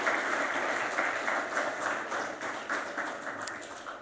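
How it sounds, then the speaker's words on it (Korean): A church congregation at a Sunday family worship service claps to welcome visitors, steady moderate applause from a room of people heard at a slight distance throughout. "한 박수로 환영해 주시기 바랍니다."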